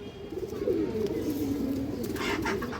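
A large red-eyed pigeon coos in low, rolling, continuous notes throughout, close and clear, with faint bird chirps above and no talking.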